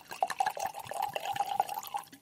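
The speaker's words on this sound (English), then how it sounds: "The wine you're hearing is being served in an academic's office at Oxford University." Wine is poured into a glass in an academic's office at Oxford University, a close, steady trickling and gurgling stream with a rising fill tone, alone without talk.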